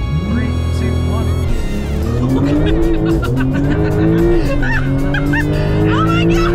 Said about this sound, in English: These cars are pretty fast.